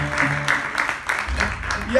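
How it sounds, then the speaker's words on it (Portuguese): Audience applause at a live frevo dance show, a steady wash of clapping heard under a voice speaking over it. "E agora surgiu aqui Mestre Ferreirinha, aplausos aqui desse mestre, patrimônio aqui da dança do frevo"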